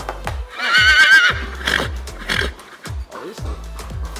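A horse neighs loudly in a stable, a long quavering whinny near the start followed by shorter snorts and calls, with faint hoof clops and a brief human voice in the background.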